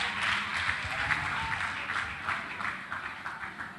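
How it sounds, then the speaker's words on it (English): An audience applauds debate participants at a Pan Africa senior secondary school agricultural debate, with a dense, sustained burst of clapping that fades slightly toward the end. "Let's give them another round of applause"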